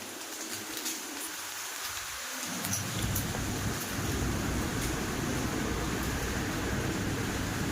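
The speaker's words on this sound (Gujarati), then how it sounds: "છાટા હા મોટા મોટા છાટા પડે" Rain with big drops starts up partway through after strong wind and quickly becomes a dense, steady downpour, loud and close, with a faint low rumble early on.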